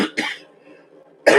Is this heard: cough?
yes